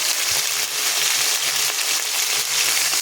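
Ginger, cumin, coriander and green chili paste with water hit a hot pan, producing a loud, steady close-up sizzle with a few soft stirring scrapes.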